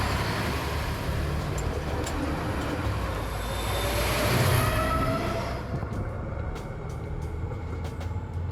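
A train passes directly overhead, recorded from underneath the tracks: a loud, steady rumbling roar that holds, then eases slightly, with faint clicks and rattles toward the end.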